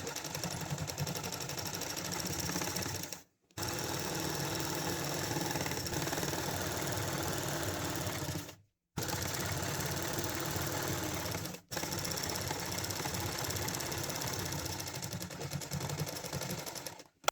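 A sewing machine runs steadily while stitching the waist belt onto a petticoat, a loud, close, continuous mechanical whirr broken by three brief pauses.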